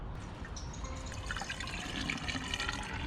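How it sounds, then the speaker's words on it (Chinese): Water pours steadily into a car's windshield washer reservoir holding an effervescent cleaning tablet, giving a continuous close splashing and trickling rush with no voices. "然后往里面倒水就可以"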